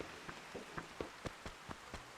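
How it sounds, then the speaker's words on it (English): Rain in the Animal Crossing video game, a quiet soft patter with a string of evenly spaced light taps standing out over the faint hiss. "Oh, it's raining over here too."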